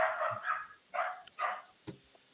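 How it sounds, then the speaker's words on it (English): A Doberman barking a few times in quick succession, fairly close but moderately quiet, with short gaps between the barks. "bring the dog in, whoever's dog that is."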